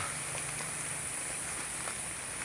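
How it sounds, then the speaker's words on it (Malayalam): Heavy rain falls steadily on a trip in the Andaman and Nicobar Islands, a dense, even hiss close by with no talk. "പക്ഷേ പറ്റിയില്ല. ഫുള്ള് മഴ."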